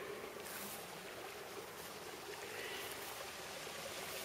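A small stream flows from a lake outlet along the Pacific Crest Trail in Oregon, producing a constant broadband rush of water, steady and fairly close, with no break or change throughout.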